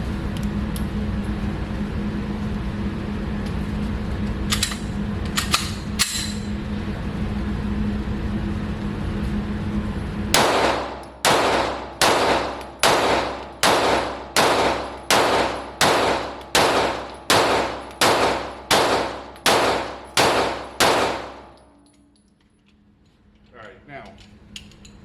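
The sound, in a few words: rapid gunfire from a gun with laser and red dot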